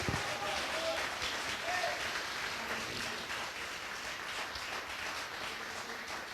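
Congregation applauding at a missions congress church service in Chile, a steady wash of clapping that fills the whole stretch at even loudness, with some voices mixed in.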